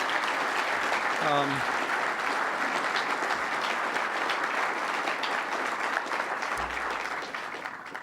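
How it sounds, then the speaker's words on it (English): Audience applause for the staff of a museum hosting a Democratic Leadership Council meeting in 2000, a steady, dense crowd clapping that fills the room at full strength throughout, easing slightly toward the end. "I think we ought to give them a big hand for welcoming us here"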